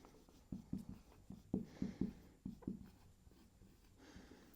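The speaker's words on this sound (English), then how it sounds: "I'm going to write it down here." Pen or pencil writing on paper or a board, a few short scratchy strokes in quick bursts, close and moderately clear, then a quiet pause.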